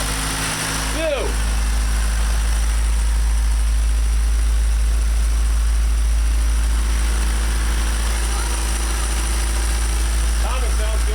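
A car engine idles steadily on a cold start after a head gasket repair and block studding, a continuous low drone running throughout, with people talking nearby.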